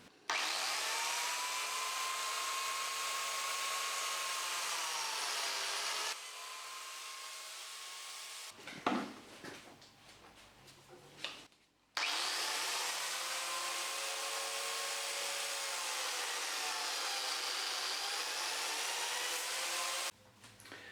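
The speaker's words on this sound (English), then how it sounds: "I can now get the biscuit jointer and on all 4 corners I can now cut an hole with the biscuit" A biscuit jointer cuts slots into timber corners while building a cheap garden gate, its motor whining loud and steady in two long bursts with a short break of clattering handling noise between them.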